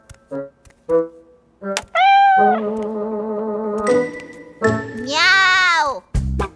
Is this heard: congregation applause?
no